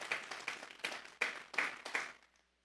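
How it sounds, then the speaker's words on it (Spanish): Church congregation clapping at a Sunday afternoon service, six brief bursts of rhythmic applause in a steady beat, moderately distant in a reverberant hall and fading away at the end. "Vamos a darle un fuerte aplauso pues al Señor esta tarde."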